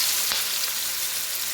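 Chicken pieces drop into hot oil with cinnamon, cardamom and cloves for chicken mandi, giving a steady, close, bright sizzle and crackle with no one speaking.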